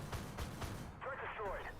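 Tank cannon fire in the Armored Warfare game booms in a few heavy, dull thuds, followed by a brief metallic ringing, at moderate loudness.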